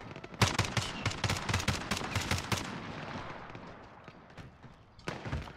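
A marksman rifle fires in the Call of Duty Warzone video game, a close, rapid string of sharp shots over about two seconds, then a quieter lull and one last short burst near the end.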